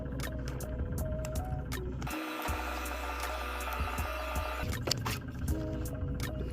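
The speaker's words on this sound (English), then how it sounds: "Use your laminating machine." A laminating machine runs through a poster carrying an NFC tag, giving a steady mechanical whir and hum with a brief louder feed section partway through. It is close and continuous and nobody talks.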